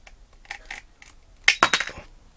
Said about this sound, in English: I'm going to just cut it out using an aviation snip